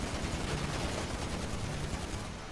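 Rapid gunfire from a GTA Online firefight, dense overlapping shots forming a continuous loud barrage with no clear gaps between bursts.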